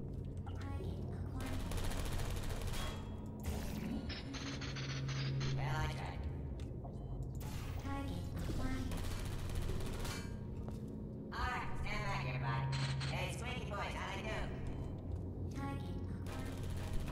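Portal 2 turrets firing at the player in rapid mechanical bursts under game noise, with a person talking over parts of it.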